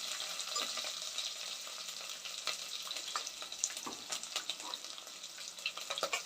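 Onions sizzle and crackle steadily in a hot pan, with the scrape and clatter of stirring breaking through close up; no voices.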